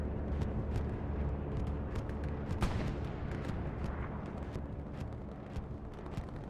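Heavy, rumbling grenade blasts from a Hell Let Loose match on the Utah map, a dense wall of low booms and scattered sharp cracks blending with distant gunfire, loud and continuous with no speech.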